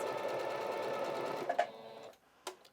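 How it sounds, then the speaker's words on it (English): A sewing machine runs a steady zigzag stitch, appliquéing fabric onto a heart pillow, its close mechanical whir continuous before stopping with a couple of small clicks. "So that zigzag stitch just kind of appliques it to the heart pillow."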